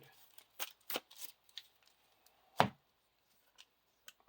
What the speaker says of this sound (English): Deck went empty during the quest phase, so we got to shuffle it up and reveal 1 more card.